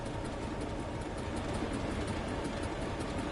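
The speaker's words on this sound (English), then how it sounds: "God, hear that engine." A BR Class 31 diesel locomotive's engine runs in a steady, continuous rumble with faint rail clatter, heard alone with no talk.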